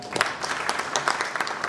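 Brief burst of scattered audience clapping at a Hindi film announcement press conference, uneven individual claps close by in a small crowd.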